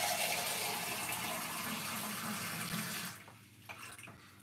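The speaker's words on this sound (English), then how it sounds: "What I'm going to do is put roughly about a cup of water inside of it." Roughly a cup of water pours steadily into a container for about three seconds while preparing a healthy slimming drink, the close splashing flow stopping abruptly and leaving a few faint drips and clinks.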